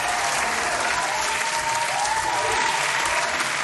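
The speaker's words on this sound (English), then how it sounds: "So let me give you your hand clap." Steady, dense hand clapping from an audience, continuous and evenly loud throughout with a faint cheer or whistle threaded through, no speech over it.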